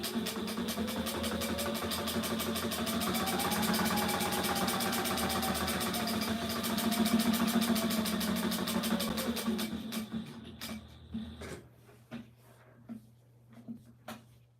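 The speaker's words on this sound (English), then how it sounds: "as soon as this piece of Velcro is sewn on, this belt will be done" A sewing machine stitches Velcro onto a belt, a rapid steady mechanical whir with even needle ticks running for about ten seconds, then stopping into scattered clicks and handling noises.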